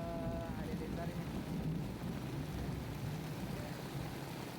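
Heavy rain pours down steadily over a flooding village street in Bekasi, a loud dense hiss filling the whole span while people talk over it.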